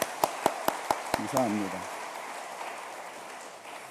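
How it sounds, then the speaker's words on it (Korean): A church congregation at a Sunday evening service gives a faint, distant round of applause after a few sharp taps near the start. Someone speaks briefly over it. "우리 박수로 한번 서로 격려해 주시면 좋겠습니다."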